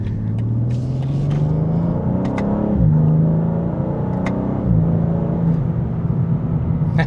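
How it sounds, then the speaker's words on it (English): A 2025 BMW M2 driving with its exhaust in sport mode, a close engine drone that rises and falls through gear changes, with short popping burbles on the lifts. "The little burbles that come out of that exhaust when you have it in the sport for the exhaust system"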